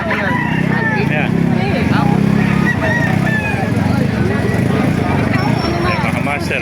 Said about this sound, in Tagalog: Marami manok kayo dito sa Kalumpit, oh.